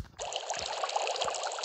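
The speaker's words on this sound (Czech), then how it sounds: "O, hezky nám to bublá." Liquid bubbles while cooking in the video game Robbery Madness, a steady watery gurgle and splash after a brief quiet start, with a couple of soft low thuds.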